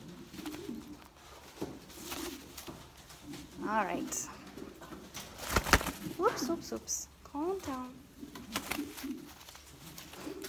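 A French Mondain pigeon coos in short bursts while being held for feather trimming, its calls close and clear amid rustling and handling noise, with a person talking over much of it.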